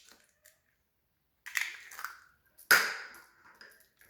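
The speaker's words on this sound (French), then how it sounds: "donc, on va casser le premier œuf." An egg cracked against a bowl during almond-flour pistachio cake preparation: a few soft taps, then one sharp crisp crack with a brief trailing rustle, close and alone in a quiet kitchen.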